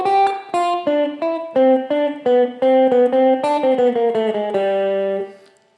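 Electric guitar notes stepping downward one by one in a steady chromatic run from the D, crisp and loud, ending on a sustained low note.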